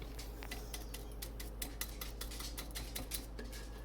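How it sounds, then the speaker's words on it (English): A spoon scrapes and taps against a bowl while Black Forest cake batter is cleared out, giving a steady run of close clinks and scrapes over a low constant hum. "Let's get a spoon here. Scrape in the pan, the bowl."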